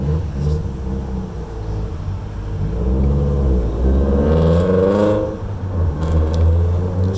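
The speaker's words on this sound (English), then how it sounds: "Sorry about the local rice can driving by." A loud modified compact car drives past outdoors in Ipswich, Massachusetts, its droning engine rumble swelling and building through the middle, then easing off, steady and close with no voices heard.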